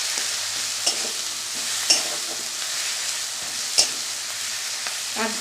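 Onion, tomato and spice masala sizzling in a pan for a bean-seed and potato curry, with steady frying hiss broken by a few sharp scrapes of a spoon stirring through the thick mixture.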